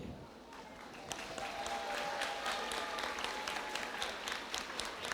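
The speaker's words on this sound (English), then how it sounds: "So just give an applaud as I go through." Audience applause at a graduation ceremony: a sustained wash of many hands clapping in a large hall, rising after the first second and continuing steadily, with a faint voice underneath.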